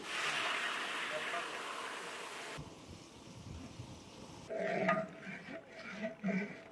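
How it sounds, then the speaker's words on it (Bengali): Chicken meat frying in a large pot at an outdoor cooking site during a storm: a steady, dense sizzling hiss that gives way to quieter clatter and stirring, with faint voices near the end. "ওইদিকে মুরগি ভাজা হচ্ছে"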